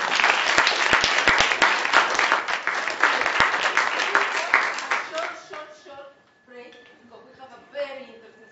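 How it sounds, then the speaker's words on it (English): A conference audience applauds steadily at an international conference on migration and development, dense clapping for about five seconds before thinning into scattered claps and a few voices. "Join me in a round of applause."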